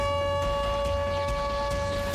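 Civil defense sirens wail across a city under missile attack, a steady sustained tone held loud and continuous throughout with no talking.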